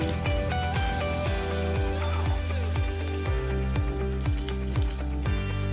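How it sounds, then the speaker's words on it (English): Mustard seeds and cumin (rai jeera) sizzle and pop in hot oil, a dense close crackle with quick spitting bursts, heard alone without speech over a faint steady background hum. "Can you see the way they are getting fried?"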